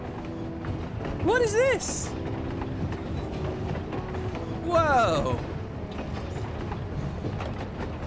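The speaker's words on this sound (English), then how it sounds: "Wow, it's a train." Train rolling along in Final Fantasy XIV, a continuous mechanical rumble and clatter with rattling, ratchet-like ticks, overlaid by two sweeping whistle-like tones, while a person speaks briefly over it.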